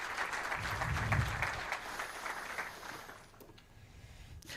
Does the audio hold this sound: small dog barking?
no